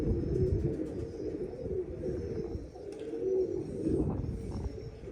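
Low, soft cooing of a female pigeon murmurs steadily throughout, with faint chirps from other birds in the background and no voices.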